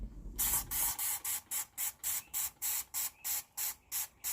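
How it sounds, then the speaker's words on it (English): A power washer sprays a cured epoxy glitter tumbler in rapid, rhythmic hissing bursts, about a dozen evenly pulsed sprays close by, with no voices. "Once your epoxy is cured, it's time to power wash."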